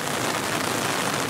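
Heavy rain falls during a July flood in the Chiemgau region of Bavaria, a dense, steady hiss of drops hitting surfaces close by, uniform and unbroken with no voices.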